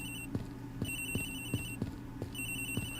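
A telephone rings in the Edgeworth Investigations video game, a repeating electronic ringtone with steady rhythmic pulses alongside a bright tonal chime, clear and alone.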